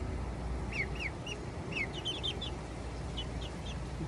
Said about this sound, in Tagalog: Ayan yung ating isang manok.